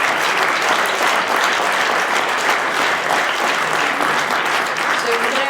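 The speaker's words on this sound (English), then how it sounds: "On peut les applaudir encore." An audience applauds the finalists of a debating competition, sustained dense clapping from a full room that stays even and loud throughout with no speech over it.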